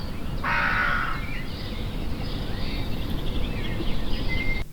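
Crows recorded by a NoiseScout noise monitor, several caws and calls scattered over a steady, loud broadband background rumble, with one harsher burst near the start.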